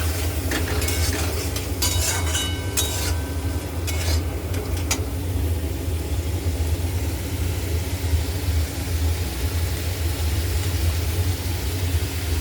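Ground turmeric, chili and ginger paste sauté in a pan with a loud, continuous sizzle. Scraping stirs clatter through the opening seconds, then the frying hiss carries on steadily alone.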